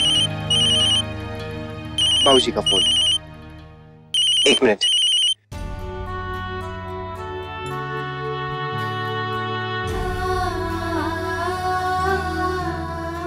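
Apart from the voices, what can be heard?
phone ringtone ringing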